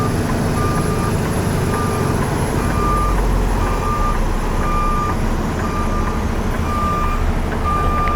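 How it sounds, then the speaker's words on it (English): A truck backing into a loading spot at night, its reversing alarm sounding a steady, evenly spaced series of beeps over a loud, constant diesel engine rumble, with no voices. "I'm backing in there with this thing beeping away"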